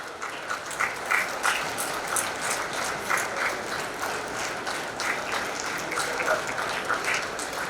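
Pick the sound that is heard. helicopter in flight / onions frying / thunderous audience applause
thunderous audience applause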